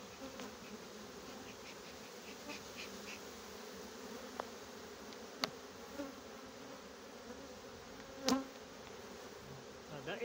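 Honeybees buzz at an open hive during work on the frames, a steady dense hum that runs throughout, with a few faint clicks and one louder knock near the end and no talk.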